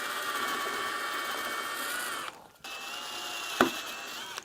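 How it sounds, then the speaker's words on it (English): A drill turns a left-handed bit to back out a broken bolt on an electric car conversion, giving a steady, close, high-pitched whirring grind that stops briefly, resumes, and ends with a sharp click. "Time to bust out the left-handed drill bit."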